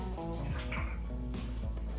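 Cold tap water runs over celery cut into three pieces for washing, a steady close splashing stream with irregular patters as the stalks move under the flow.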